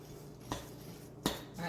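A spoon presses through clumps in almond coconut brownie batter, two distinct clinks against the bowl over a quiet background, close and brief.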